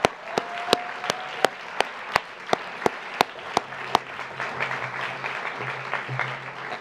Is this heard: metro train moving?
no